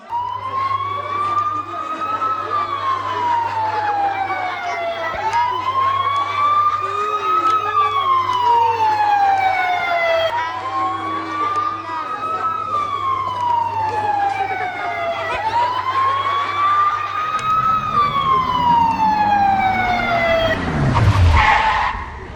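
A wailing ambulance siren rises and falls in long repeating sweeps, loud and close, over a low steady engine hum, ending with a brief rush of noise.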